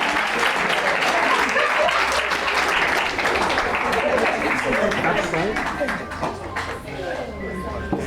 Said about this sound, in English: A round of applause again.